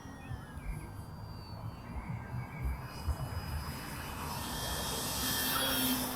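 A Durafly Tundra V3 radio-controlled plane flies overhead, its thin electric motor whine drifting in and out over wind-like rumble and growing slightly louder toward the end.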